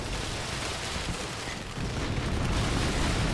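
A Russian Terminator armored vehicle fires away in the WARNO strategy game amid a dense, continuous roar of gunfire and explosions that grows heavier and louder in the second half.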